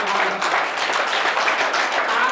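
Guests are welcomed with applause at a Brahma Kumaris gathering, a full crowd clapping continuously and fairly loudly for a couple of seconds.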